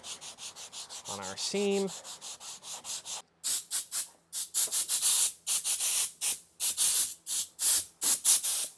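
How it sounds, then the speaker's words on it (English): Sanding on a totaled GTO's car hood bodywork, in repeated rhythmic hissing strokes, close and loud, each about half a second with short gaps between. A brief spoken phrase comes first. "Bit more sanding off camera,"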